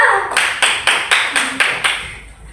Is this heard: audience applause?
yes